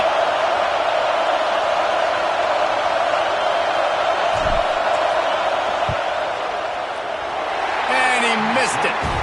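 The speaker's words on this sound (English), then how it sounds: "This crowd trying to do its part to get inside the kicker's head." A football stadium crowd roars in a steady, dense wall of noise during a field goal attempt on fourth down, with scattered whistles and a louder swell near the end.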